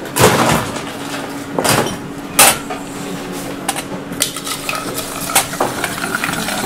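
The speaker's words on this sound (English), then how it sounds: "Gonna stir the drink." A bar spoon stirs a vodka cocktail over ice in a mixing glass, giving a continuous soft swirling with intermittent sharp clinks and rattles of ice.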